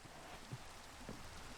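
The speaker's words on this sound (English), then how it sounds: "Rain again." Soft, steady rain falling in a modded Minecraft world, a faint even hiss with a couple of tiny droplet taps, and no voices.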